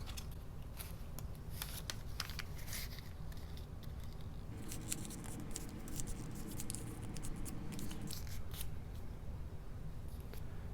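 A ten dollar bill being folded for origami, soft crinkling paper rustles and creasing scrapes, close and quiet, with busier bursts of handling midway.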